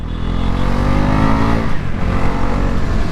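A Bajaj Pulsar NS400Z 400cc motorcycle engine roars loud and close, holding a dense, steady revving note throughout with no pauses and no speech over it.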